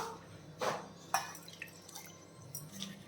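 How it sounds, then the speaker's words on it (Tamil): Half a cup of water is added to a cooking pan holding cumin and curry leaves, giving two soft splashy drips over low room hum, followed by a few fainter trickles. "அரை கப் தண்ணியை சேர்த்துடலாம்"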